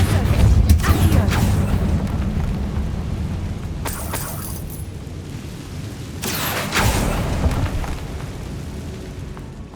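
A Confringo fire spell blasting in the Hogwarts Legacy game, loud booming bursts and crackling roars washing through, with sharp flares of noise near the start, middle and later on.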